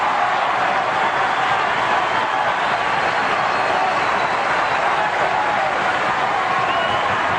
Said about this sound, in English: So listen to the applause.